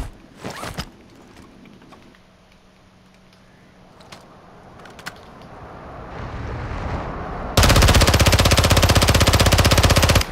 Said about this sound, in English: Taking fire over here.